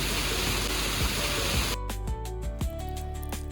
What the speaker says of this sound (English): the Fountain of Neptune explodes with powerful jets of water